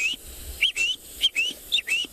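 A voice imitates a spur-winged goose's call with a series of short, high-pitched whistling tweets, about five quick rising chirps spaced irregularly.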